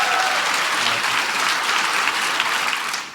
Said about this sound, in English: So give Strive a big round of applause.